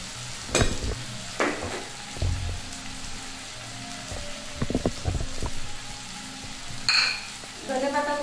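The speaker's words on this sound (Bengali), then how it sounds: "ভালো করে মশলা ভেজে নেবো" Spice masala of red chilli, coriander and cumin powders with salt fries in a pan for grass carp fish curry, crackling softly under several sharp stirring knocks and scrapes.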